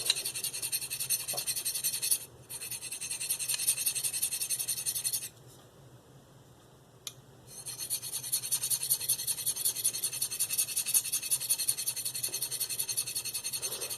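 A D2 steel Eafengrow CH3001 knife is pushed across a Spyderco medium bench stone, a close, dry rasping scrape in long strokes, with a short pause and a single tap before the grinding resumes.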